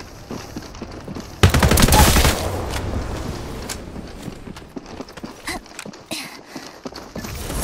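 Apex Legends game gunfire, a short loud rapid burst, followed by scattered, quieter shots and clattering game sounds.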